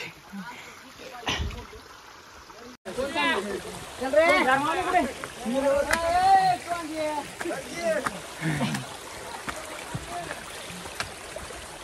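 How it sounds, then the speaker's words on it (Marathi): Water runs down a rocky trail at Visapur Fort in a constant broad wash, with people talking over it throughout. "वरून पाणी येत आहे त्याच वाटाने आम्ही वरी जात आहोत"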